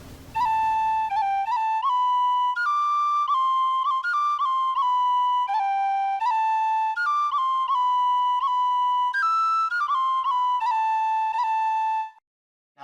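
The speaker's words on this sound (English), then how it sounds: "And so it's being played on the tin whistle" A tin whistle plays a clear, steady melody of bright sustained notes stepping up and down, solo and unaccompanied, ending abruptly.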